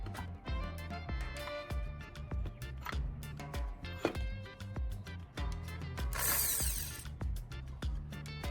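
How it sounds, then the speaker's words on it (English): A drill bores a hole through the center of a metal fork clamped in a vise, giving busy, rattling mechanical grinding with repeated ratchet-like clicks and a brief harsher burst near the end. "securing in the vise, I'll drill a precise hole through its center"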